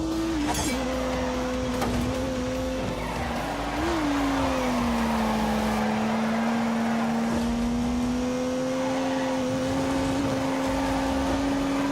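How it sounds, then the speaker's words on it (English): A turbocharged 3-litre straight-six car engine pulls hard as it accelerates, giving a loud, steady droning roar with a pitch that dips and then holds as the revs climb, close up and continuous. "unleashed 365 rampaging horsepowers from the turbocharged 3-litre straight 6"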